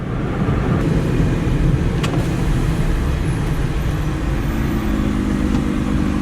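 A Smart car drives toward a capitol building, its steady engine drone and road rumble filling the cabin continuously and fairly loudly, with no voices.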